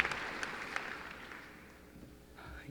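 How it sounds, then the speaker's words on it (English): A graduation audience at a high school ceremony claps, the applause fairly faint and distant, thinning out over a few seconds before a brief fresh sound at the end. "So if we could have another round of applause for Claudia Savasky"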